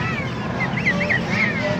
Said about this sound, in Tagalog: Yung mga bata pang gansa yan.